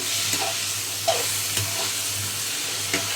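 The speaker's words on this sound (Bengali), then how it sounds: "পেঁয়াজটা একদম কষে যাচ্ছে আস্তে আস্তে" Onions saute in a pan for a Bengali hilsa-head curry with eggplant, giving a loud continuous sizzle close by, with a few light spoon scrapes and taps as they are stirred, and no speech.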